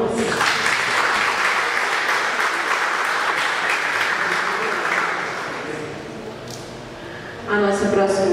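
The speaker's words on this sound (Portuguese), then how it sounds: "Por favor, uma salva de palmas." A ceremony audience at a national physical-education symposium opening in Brazil claps in sustained, dense applause that slowly fades, before a voice begins speaking near the end.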